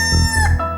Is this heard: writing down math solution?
no